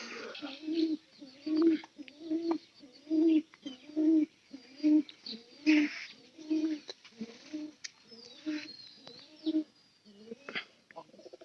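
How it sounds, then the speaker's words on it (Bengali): A Nangra pigeon coos over and over from close by in a steady, rhythmic series of soft, hooting calls, each a short throaty burst with brief pauses between, and no talking. "ন্যাংরা পায়রা কিন্তু প্রচুর ডাকে"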